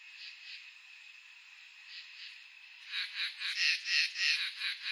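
A chorus of frogs calling in the background, then a run of louder, pulsing croaks in quick rhythmic bursts, close and steady.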